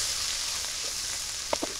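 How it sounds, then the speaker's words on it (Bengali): Ginger, garlic, onion and spices sizzle steadily in a hot pan for a Bangladeshi coral fish curry, a close, constant hiss with a couple of faint clinks of a stirring spoon near the end. "সুন্দরভাবে মশলা ভাজা হয়ে গেছে"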